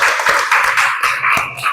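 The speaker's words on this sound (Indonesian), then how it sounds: "Oke, tepuk tangan dulu untuk semangat." Students clapping in a classroom, a short burst of rhythmic group claps in a patterned beat, close and loud, without talk.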